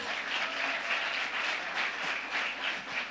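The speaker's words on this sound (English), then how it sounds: "I want you to clap for the CEO of Irembo" An audience at a young CEOs and young professionals business forum applauds the CEO of Irembo, with steady, even clapping from a crowd sustained across the whole stretch at moderate volume.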